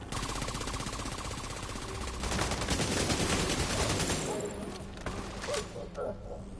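AK-47 assault rifle fire in the video game The Division 2, heard as dense, continuous rapid bursts with a loud, steady wash of game noise, someone speaking over part of it.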